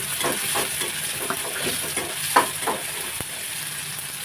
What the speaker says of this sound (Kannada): ಇದು ಇವಾಗ ಫ್ರೈ ಆಗ್ತಾ ಇದೆ.